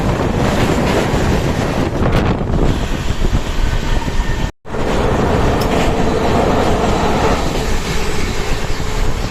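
The Udyan Express, KSR Bengaluru City to Mumbai CSMT, roars past from the opposite direction with a loud, steady wash of rumble and wind rush, broken by one brief dropout near the middle.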